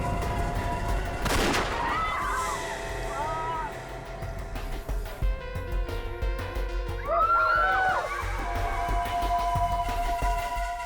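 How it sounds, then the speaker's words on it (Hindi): Gunshots in a tense police standoff, starting with a sharp loud blast and followed by ringing, echoing tones and scattered further bangs under a busy background of music and noise. "शुक्र है अभी पैर पे गोली मारी है, छाती पे नहीं।"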